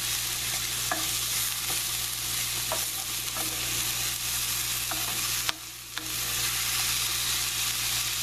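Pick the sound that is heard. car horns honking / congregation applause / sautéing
sautéing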